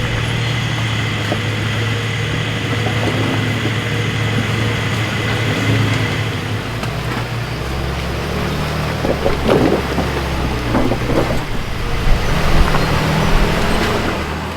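A Turbo Barra-engined Land Cruiser 4WD crawling slowly along a tight bush creek track in Sundown National Park, Queensland, with a steady low engine drone close by and a few scrapes and knocks from the terrain.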